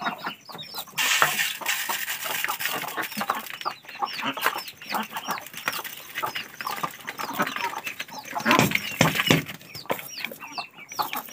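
Muscovy ducks on a farm in Bargarh, Odisha, being fed ground paddy, with a dense, steady chorus of clucks, squawks and bird calls that swells and fades over several seconds; no talking.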